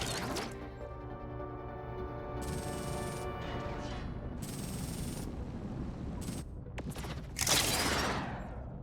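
Weapons fire and explosions in the space strategy game Endless Space 2 during a fleet battle with torpedoes, with repeated sharp electronic blasts, tonal whines and a louder burst near the end over a layered synthetic background, no speech.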